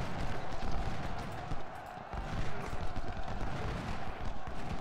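Dense, continuous battle fire in Ultimate General: Civil War at Gettysburg, with cannon booms and musket volleys blending into a steady rumbling roar, no pauses, heard alone.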